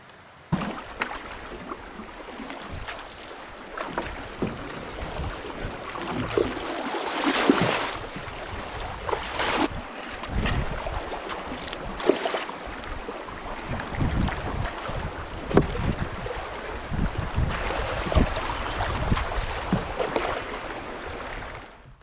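A solo canoe moves across a big wilderness lake with no one else around, giving uneven splashes and knocks under steady wind buffeting the microphone.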